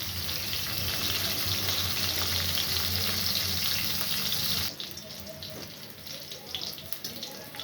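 Cauliflower florets fry in hot oil in a pan for a potato and cauliflower curry, giving a loud, steady, close sizzle that drops to a softer crackle partway through.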